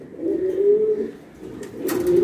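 American Commoner fancy pigeons in a pigeon loft give soft, low, rolling coos nearby, with a brief rustle of movement toward the end.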